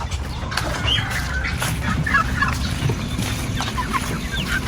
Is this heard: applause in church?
no